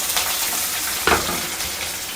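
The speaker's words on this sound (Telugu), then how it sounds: "ఇంక ఇందులో ఆనియన్స్, తెల్లగడ్డ దంచి వేస్తున్నాను" Onions and crushed garlic hit a hot pan with a loud continuous sizzle and a sharp burst partway through as more goes in or gets stirred.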